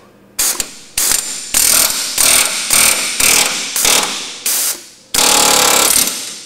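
Repeated hammer blows work a car suspension ball joint loose in a garage: about eight loud, hard bursts in an uneven rhythm, then one longer final burst, close and with nothing else underneath.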